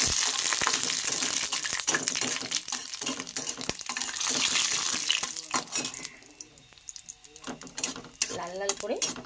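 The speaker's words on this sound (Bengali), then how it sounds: "লাল লাল করে বড়িগুলো ভেজে তুলে নেব।" Lentil dumplings (bori) fry in hot oil in a pan with a steady sizzling hiss, briefly quieter in the middle, and clinks of a utensil against the pan break in now and then.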